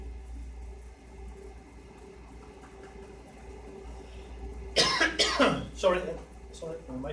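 Two or three harsh coughs burst out close to the microphone after several seconds of quiet room hum, followed by a softer throat-clearing sound.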